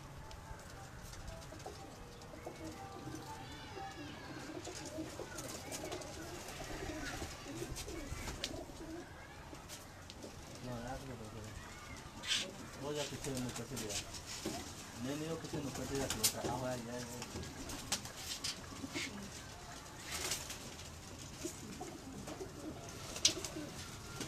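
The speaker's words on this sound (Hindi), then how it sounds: "कबूतर का शौक करें जी, शौक करने वाला कबूतर है ज़रा।" Domestic pigeons coo on a rooftop in Gujranwala, with soft repeated low coos and occasional wing flutters and chirps close by, faint overall, while people talk quietly in the background.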